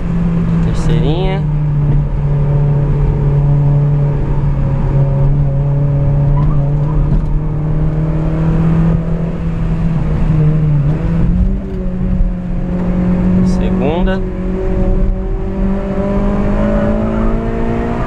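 A Honda Civic Si with an aftermarket exhaust drones steadily from inside the cabin as it is driven through the gears, with short upshift and downshift revs breaking the engine note while someone talks over it.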